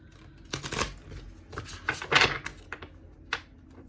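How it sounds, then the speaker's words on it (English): Crisp riffling and tapping of a thick deck of tarot cards being shuffled in two parts, in short bursts, one louder flurry in the middle, close and fairly quiet. "so I have to shuffle it in two parts"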